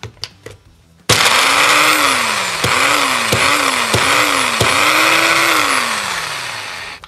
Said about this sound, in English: Let's see if this little blender will do it.